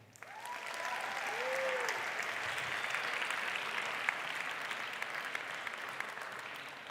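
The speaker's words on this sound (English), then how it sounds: "Let's applaud them" A graduation audience applauds steadily for the candidates, a sustained even wash of clapping from a large hall. Faint voices and tones drift through it early on.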